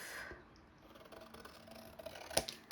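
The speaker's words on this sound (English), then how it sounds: "Forget me big scissors for this. Cut these off." Large scissors snip through paper while making a handmade petal-style album, giving a few short, crisp cuts close to the microphone over a quiet room.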